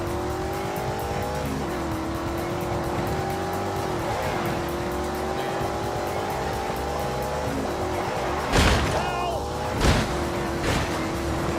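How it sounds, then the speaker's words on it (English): A BMW race car engine holds a steady, droning full-throttle note in the Grand Tour video game, its pitch dipping slightly at gear changes, followed by two sharp bursts of tire squeal near the end, loud and continuous. "Full throttle. It's easy. It's a BMW."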